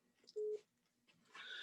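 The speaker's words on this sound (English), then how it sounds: "I got a phone call coming in, which I got to decline." An incoming phone call sounds as a short electronic tone, followed by quiet rustling and a soft hiss, heard faintly and alone.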